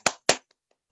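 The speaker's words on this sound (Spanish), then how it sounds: "Por favor, lo recibimos con fuertes palmas" Two sharp hand claps in quick succession at an event welcoming a speaker, close and loud, followed by a couple of faint stray claps and silence.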